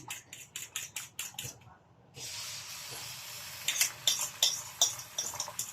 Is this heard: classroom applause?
no